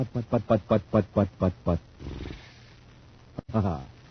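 A voice imitates a car engine with a rapid series of rhythmic sputtering bursts, then a low rumble, a click, and another short revving burst.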